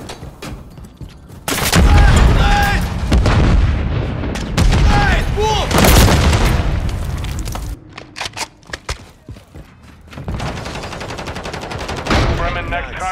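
Automatic gunfire and explosions crackle loudly in a Call of Duty MW3 Hardpoint match on the Sub Base map, with dense bursts in the first half, a brief quieter lull, then renewed firing, mixed with game voice callouts.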